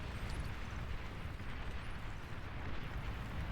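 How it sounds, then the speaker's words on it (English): Dense, continuous rumble of bombing run explosions in the strategy game Beyond All Reason, a steady wash of overlapping blasts with no individual pops standing out, moderately loud and without talk. "And look at that bombing run."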